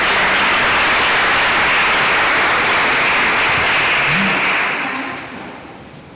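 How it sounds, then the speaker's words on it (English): An auditorium audience at an annual symposium applauds the panelists, a dense, loud clapping that holds steady for several seconds and then thins out and fades near the end. "please another applause for our panelists"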